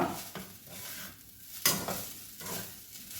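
Lemon rice being stirred and mixed in a hot pan, with soft scraping strokes and a light sizzle in a few uneven bursts, close up and fairly quiet, with no voices.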